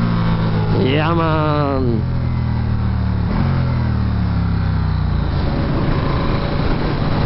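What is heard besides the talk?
Ducati 1260S Diavel motorcycle engine accelerating on test ride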